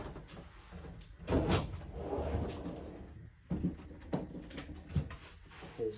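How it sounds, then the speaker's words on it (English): Objects clatter and scrape inside a drawer as it is rummaged, with a few sharper knocks and bumps scattered through the rustling. "junk drawer"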